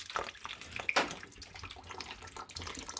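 Water draining from the reservoir of a Highland Park 6-inch trim saw after its plug is removed with a wrench, a close, uneven gurgling trickle with small splashes and drips, no talking.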